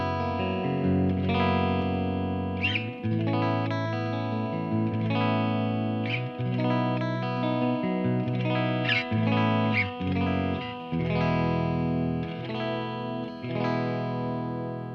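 PRS MT 100 tube amp driven by an electric guitar, played dry with no effects: sustained chords and picked notes ring continuously and close, with a steady tone and a faint underlying hum, and no talking.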